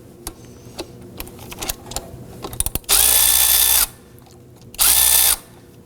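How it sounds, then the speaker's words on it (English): Power tool driving a 12mm socket on the belt adjuster of a 2005-2009 Subaru Legacy 2.5L H4, two loud close whirring bursts about a second each, preceded by light clicks and handling noise. "So we're going to do that by using a 12mm socket down here on the adjuster."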